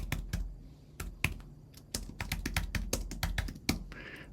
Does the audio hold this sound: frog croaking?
no